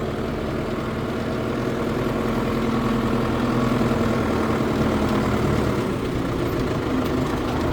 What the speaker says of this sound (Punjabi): ਆਪਾਂ ਦੁਬਾਰਾ ਟਰੈਕਟਰ ਦੇ ਕਰ ਲਿਆ ਸਟਾਰਟ